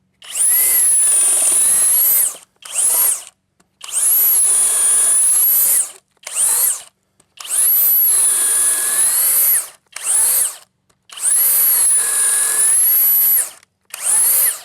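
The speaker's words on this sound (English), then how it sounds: "switch that out with the auger bit, the 6 inch, and this is what the turbo is for." A Flex power drill with a 6-inch auger bit bores into wood, loud close whining bursts of a couple of seconds each, repeated about six times with short silent pauses between.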